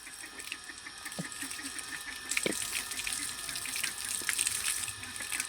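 Water poured over a person at bath time after a turmeric and neem paste rub, splashing steadily across the whole stretch and growing louder and fuller about halfway through, with no voices.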